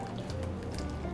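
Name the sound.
maseca mixed with water for champurrado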